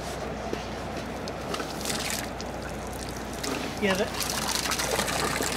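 Water trickles and splashes as it is poured over frozen mooring lines on a boat in the cold North Sea, a steady liquid dribble close by with some sloshing.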